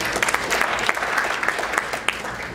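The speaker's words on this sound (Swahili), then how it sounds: "tupige makofi mengi sana" A crowd at a ceremony for Tanzanian athletes keeps clapping, a brisk, sustained patter of many hands with occasional louder claps near the front, no pauses.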